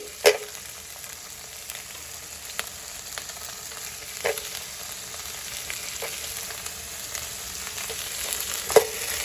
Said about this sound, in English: our cauliflower, carrots and beans have been frying